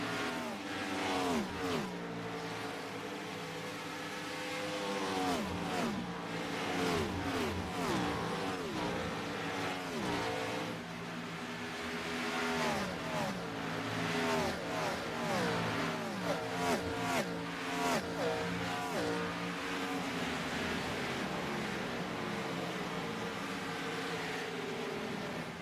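Stock cars in a sim racing game at Kansas Speedway, engines droning and revving continuously as several cars roar past in close succession, pitch sweeping up and down with each pass.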